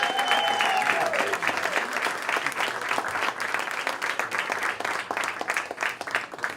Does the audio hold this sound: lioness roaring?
no